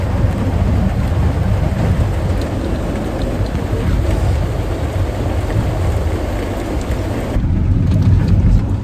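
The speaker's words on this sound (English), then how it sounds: "Oh, what a rain! Look at all that rain right here." Heavy rain pours down steadily in N'Sele, Kinshasa, DR Congo, a loud, dense hiss of drops on surfaces continuing throughout with no voices.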